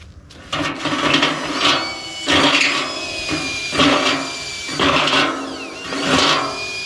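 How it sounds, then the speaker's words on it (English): A power drill grinding and cleaning the edges of holes cut in a metal backyard biochar kiln, in several loud bursts of about a second each separated by short pauses. "I'm going to take the drill and just clean those edges up a little bit on these holes."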